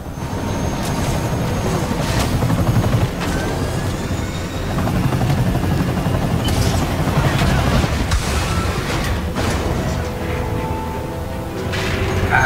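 Helicopter in the Spider-Man PS4 video game, a steady loud rotor drone running throughout amid game explosions and gunfire-like bursts.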